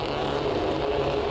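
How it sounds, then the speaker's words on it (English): Touring race cars revving together at the race start at Estoril, a dense, continuous engine roar from the pack that stays loud and steady throughout, with no talk over it. "Revs rise and away we go."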